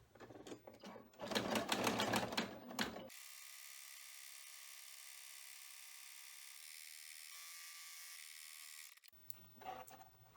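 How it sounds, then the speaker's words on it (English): An embroidery machine runs a tack-down stitch while making a dice pouch, giving a steady high mechanical whir for about six seconds. Rapid clattering stitching sounds come just before it and return briefly at the end. "All right, so now we'll go run the tack down stitch."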